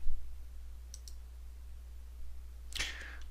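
A computer mouse clicking while working in Civil 3D software: a faint pair of quick clicks early on, then a louder, sharper click near the end, over low steady hum with no talking.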